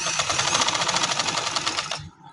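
Sewing machine stitching a pink salwar design, a dense rapid whirring run of about two seconds close by that stops abruptly.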